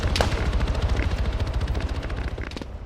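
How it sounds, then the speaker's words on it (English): Gunfire in an Arma 3 King of the Hill match around the Katiba, rapid bursts of automatic rifle fire crackling in dense overlapping volleys, moderately loud and continuous with scattered sharper single shots. "And from all that crazy gunfire to just the odd pop pop."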